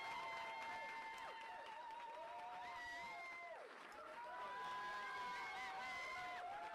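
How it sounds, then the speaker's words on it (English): A crowd cheers on New Brunswick provincial election night, with steady noise and sustained, wavering whistle or horn-like tones rising and falling throughout, heard faint and distant. "I tuned back in just to hear cheering."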